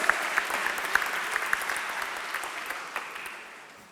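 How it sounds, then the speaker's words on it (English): An audience at a live banking hackathon event claps together in a dense, lively burst of applause that slowly tapers off toward the end, with no speech above it. "Clap your hands."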